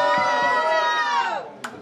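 Crowd at a Halloween rap battle semifinal roaring back in a sustained, loud collective yell that trails off, followed by a brief sharp burst.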